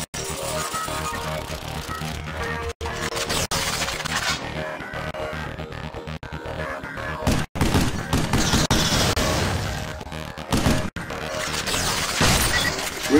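Weapon fire in the video game Vanquish, a dense sustained barrage of rapid shots and crashing impacts over a continuous loud game soundscape, with brief cutouts between bursts.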